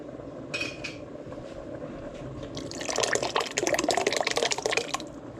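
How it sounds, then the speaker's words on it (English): Water runs from a kitchen tap while goulash is being cooked, rising into a steady splashing rush after a few clinks of dishes, close by and fairly loud, with no talk. "Run a little bit of water."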